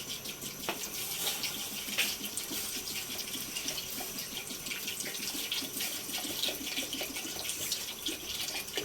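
Steady stream of water pouring and splashing into a pot of aloo gosht nearby, a continuous gushing rush with small clinks, no talking.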